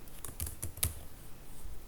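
Several quick, light key presses on a computer keyboard while entering a database command, a short burst of soft, close clicks followed by quiet.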